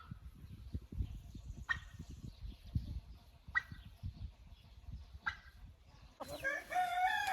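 Poultry in a grassy outdoor enclosure cluck and call softly, with a few short higher cries spaced a couple of seconds apart and a louder burst of squawking at the end over low rustling background.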